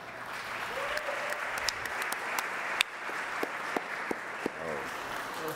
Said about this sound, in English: Big round of applause for CafeX.